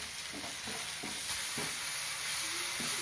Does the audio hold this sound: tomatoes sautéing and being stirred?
yes